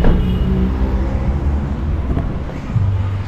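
A 2007 Toyota Vios engine idles steadily with a low rumbling drone, close and fairly loud, continuous throughout with no voices.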